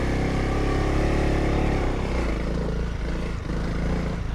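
A Honda CRF dirt bike engine pulling in second gear, a loud, close, continuous droning roar with the pitch shifting slightly midway.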